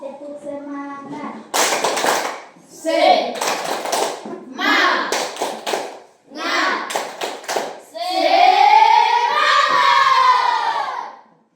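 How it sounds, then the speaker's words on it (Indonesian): A standing group in a classroom does a rhythmic spirit clap as an icebreaker, with bursts of clapping mixed with loud chanted voices in several short phrases, ending in a longer sustained shout. "Tepuk semangat."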